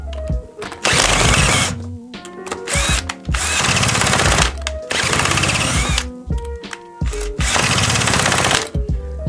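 A Yamaha PW80 dirt bike with the choke on is cranked over in repeated bursts, each loud sputtering engine burst stopping short before the next attempt, close up with no one speaking.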